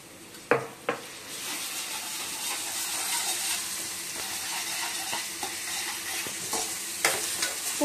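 Spices and ginger-garlic tempering sizzle in hot oil for a mango pickle, a continuous crackling hiss with sharp clanks from a stirring spoon against the pan at the start and again near the end.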